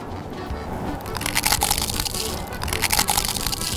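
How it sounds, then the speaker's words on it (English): Crisp, crackling crunches sound up close as a hard-shell taco is bitten and chewed, with a few louder snaps in quick succession. "you gotta have a taco. Something tells me this is gonna crunch."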